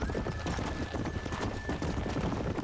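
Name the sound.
horses trotting and neighing in the video game Red Dead Redemption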